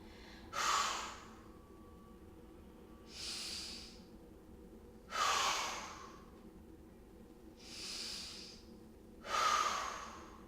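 Exercise breathing, alternating loud exhales and softer inhales in a slow, regular cycle of five breaths, close to the mic and without talk.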